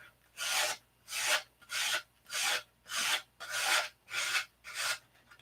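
Sanding a hangar rash repair on an aircraft by hand, with seven even back-and-forth rasping strokes in steady rhythm, close and clear with no talking.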